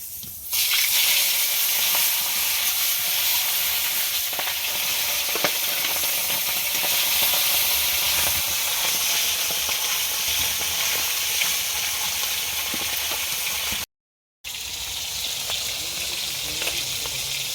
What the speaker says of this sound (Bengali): তেলটা গরম হয়ে গেছে, এবার মাছটা দেব।